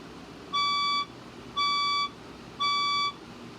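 A building fire alarm test sounding three evenly spaced electronic beeps, each about half a second long, loud and clear over a quiet room background.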